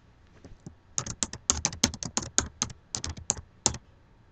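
Typing on a computer keyboard, a close, quiet run of about twenty sharp key clicks in an uneven, quick rhythm.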